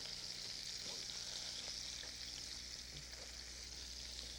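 Goose pieces browning in a frying pan on a cooktop, a soft, steady sizzle with faint crackles that runs evenly throughout.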